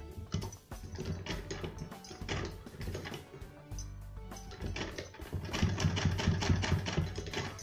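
Sewing machine stitching a fabric sleeve, its motor running in bursts of rapid mechanical clatter with brief pauses between runs, close and fairly loud, no talking.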